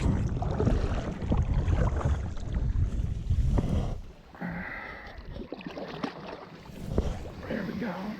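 A kayak is paddled up into a brushy, wooded waterway while deer hunting, with close splashing and water swishing amid rustling and wind buffeting the microphone.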